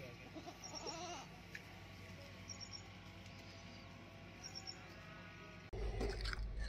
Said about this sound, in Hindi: अश्मीर का प्यार चेक करें इनकी बकरियों के लिए, एनिमल्स के लिए।